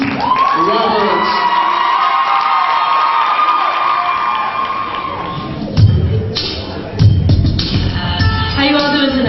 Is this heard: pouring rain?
no